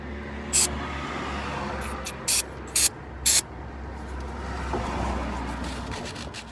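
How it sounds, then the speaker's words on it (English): Degreaser sprayed onto the camshaft magnet of a Mercedes M111 engine: four short, sharp hissing bursts close by over a steady low hum. "I can try some degreaser first, just to see."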